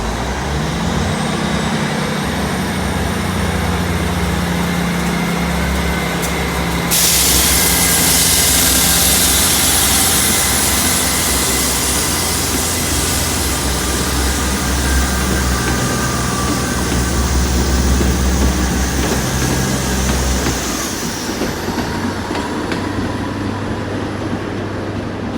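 Class 159 diesel trains at Exeter St David's station, a loud steady engine drone and rumble that swells with a high whine partway through, continuous and close, with no talk.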